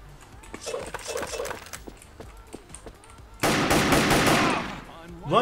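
Rapid automatic gunfire from the Wolfteam video game with a SCAL WKS rifle, bursts of shots landing headshots, then a loud sustained roar of fire near the end, all fairly close and punchy.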